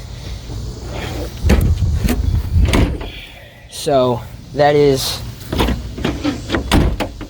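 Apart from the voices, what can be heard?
car fuel door being pulled open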